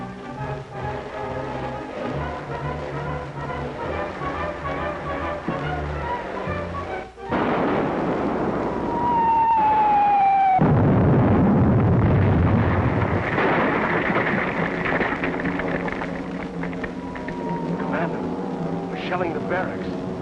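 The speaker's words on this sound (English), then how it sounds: "Shelling the barracks." Artillery shells exploding in a video game, a sustained rumbling barrage with a sharp burst midway, followed by continued heavy booming and tonal game sounds underneath.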